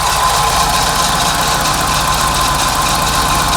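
Ford Scorpio engine idling steadily, a loud continuous mechanical hum with a fan running, close to the microphone throughout, with no voices.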